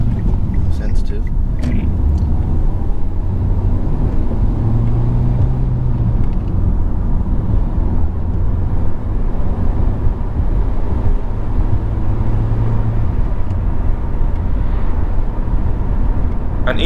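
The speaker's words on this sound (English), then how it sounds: "Zach stays in fourth gear down this road, doing about 45 miles an hour" A car holds fourth gear at about 45 mph on a UK road during a practical driving test, producing a steady low engine drone and road rumble heard from inside the cabin throughout.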